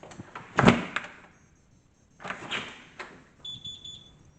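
A short electronic beep sounds near the end, high and thin, following two louder thuds like a door moving.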